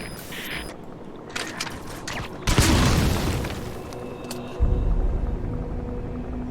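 Claymore mine going off in Metal Gear Solid 5, a sudden deep boom that swells into a long rumbling roar, then a second heavy low surge, loud and close amid game ambience.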